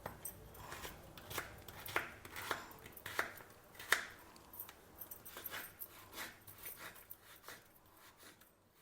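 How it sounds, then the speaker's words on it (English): Knife chopping peeled, trimmed beetroot into fine pieces on a board, a run of sharp, irregular taps and clicks at moderate distance, spaced unevenly with quiet gaps between strokes, no voices. "Then we can chop it into fine pieces."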